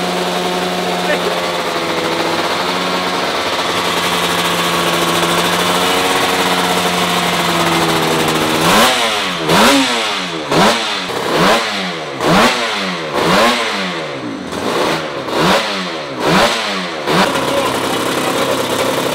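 A 500cc two-stroke racing motorcycle once raced by Barry Sheene idles steadily and close by at a track day. It then rises into a rapid series of sharp, snarling throttle blips that repeat roughly every second.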